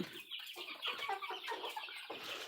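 Backyard hens kept by a home poultry keeper cluck in a busy, overlapping stream of close, fairly loud calls, with no talk over them.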